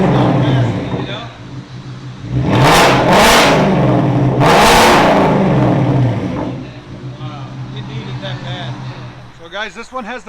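A 2024 Ford Mustang GT 5.0L V8 with Corsa Double Helix exhaust and no mufflers idles with a deep rumble, then blips loudly twice in close succession before dropping back to idle; a person speaks briefly at the end.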